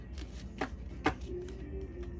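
Tarot cards being shuffled by hands wearing long velvet nails, faint soft riffles with two sharper clicks, quiet and close with no talk.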